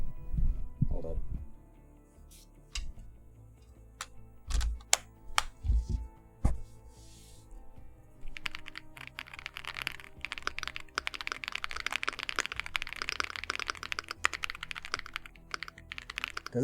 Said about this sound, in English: This is my other new keyboard, the Rainy 75, which is absolutely beautiful.